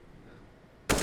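Gunfire in a Counter-Strike match from ESL Pro League Season 14 arrives after a quiet lull as a sudden, loud burst of automatic fire right at the end.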